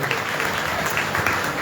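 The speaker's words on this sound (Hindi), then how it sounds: "ताली बजा के" A crowd at a religious katha gathering clapping together, a dense, loud, continuous wash of applause filling the whole short moment with no pauses.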